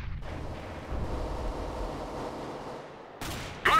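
A flashbang grenade bursts in CS:GO, a loud broadband blast that rumbles and rings on for several seconds, followed near the end by a couple of sharp, closer bangs.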